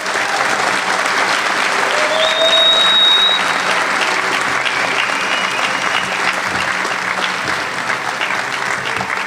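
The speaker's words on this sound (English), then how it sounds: "One more round of applause for them, please" A crowd fills a high school gym with sustained, loud applause at the 2025 North Beach High School graduation, honoring the valedictorian and salutatorian. The dense clapping holds steady throughout, with a brief whistle rising over it.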